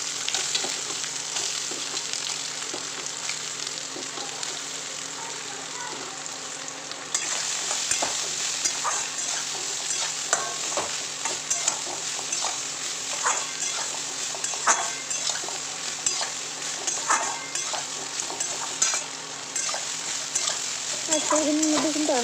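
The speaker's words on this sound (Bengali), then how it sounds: "এই তেলের মধ্যে এখন যে সয়াবিন থেকে আমি জলগুলো ফেলে দিয়েছি সেই সয়াবিনগুলো ভেজে নেবো" Soaked soybean chunks fry in hot oil, giving a steady sizzle with crackling pops and occasional utensil scrapes, moderately loud and close, over a faint background noise.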